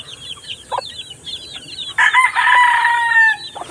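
Texas gamefowl roosters crow loudly and cluck close by, short calls early on leading into one long, strong crow near the end.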